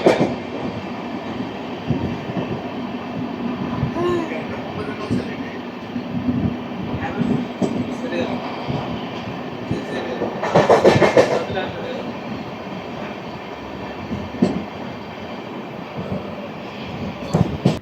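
The Amrit Bharat Express, train 17042, runs along steadily, a continuous rumble of rolling wheels and carriage noise heard from on board, with a brief louder rush midway and some faint voices underneath.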